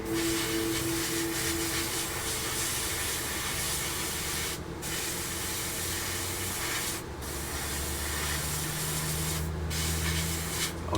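Spray paint hisses steadily from an aerosol can onto a piece of a Su-35S Flanker-E scale model, a close continuous spray with three short pauses between passes.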